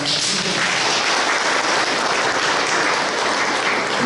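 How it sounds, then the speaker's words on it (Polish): Loud, dense applause from a school audience at a junior barber competition in Cieszyn, a continuous close wash of many hands clapping with no pauses and no talk. "Brawa!"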